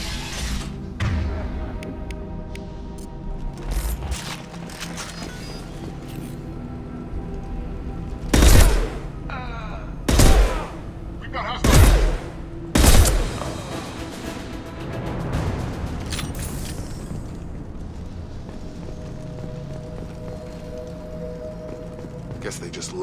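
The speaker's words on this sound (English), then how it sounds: "The Blue Suns and Vorcha shooting anything that moves." Gunfire from Blue Suns and Vorcha mercenaries in the Mass Effect 2 video game. Four sharp, loud bursts of shots come in quick succession over a background of game ambience, with voices talking at times.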